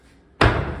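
A drawer is shut once at close range with a single sharp slam and thud that rings out briefly before fading.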